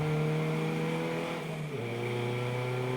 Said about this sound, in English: Second car coming in is